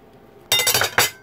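Metal knife and fork set down on a table laid for a Christmas dinner, giving a few quick, close clinks in a short cluster after a moment of near silence.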